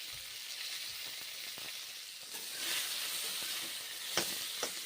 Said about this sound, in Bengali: ভেজে নিচ্ছি লবণ হলুদ দিয়েছি ভেজে নিচ্ছি